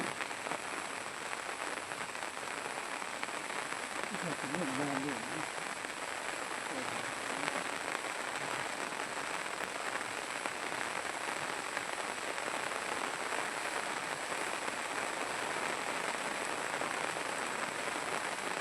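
Rain falls steadily at a fishing spot, a constant broad hiss lasting throughout, with a brief low murmur of distant voices partway through.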